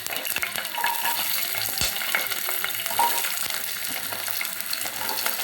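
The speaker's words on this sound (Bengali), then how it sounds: "এবার আমি রসুনগুলো আর পেঁয়াজগুলো একটু ভেজে নেব।" Garlic and onions sizzle steadily in hot oil in a frying pan, a close, continuous crackle with occasional stirring scrapes and no talk.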